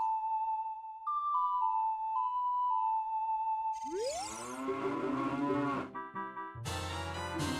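A cow in the video game Ocarina of Time gives a long, loud synthetic moo after a few sustained chiming tones, followed by a short bright burst, with no talk.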